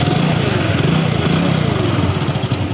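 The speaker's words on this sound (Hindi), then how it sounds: "मेरा बाइक सेल्फ से स्टार्ट होगा।" Hero Passion Pro motorcycle engine running after a self-starter start, a loud, close, steady idle chug with rapid even firing pulses, and no voices over it.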